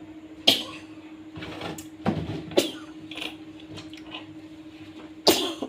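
A woman with a cold coughs a few times, short sharp bursts spaced across the clip over a steady low mechanical hum in a home kitchen.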